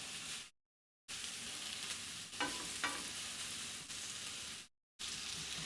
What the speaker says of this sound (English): This is the lowest heat setting there is, but there's water on it. So that's the sizzle that we're hearing.